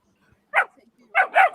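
A three-year-old dog barks close by: one sharp bark, a pause, then two quick barks in succession.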